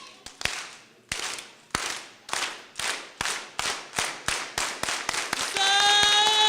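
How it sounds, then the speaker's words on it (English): Town hall audience in a city district performing a unity clap: single sharp claps in unison, starting slow and evenly spaced, then steadily quickening into a rapid run before a sustained tone takes over. "So let's start that clap."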